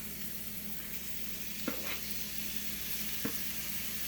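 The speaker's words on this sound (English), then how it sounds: "A little bit of sizzle, a little bit of heat there." Ground beef sizzles steadily in a hot pan, a constant crackling hiss up close, with a couple of soft utensil taps.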